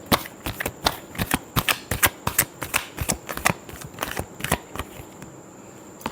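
Tarot cards are shuffled close up in a quick, even series of crisp papery snaps and flutters, about two per second.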